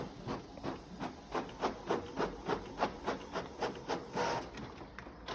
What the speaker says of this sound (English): it says that the test page is printing to your printer